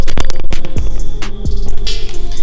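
A loud air compressor from Harbor Freight drones steadily up close with a low throbbing hum and rattling, clattering bursts.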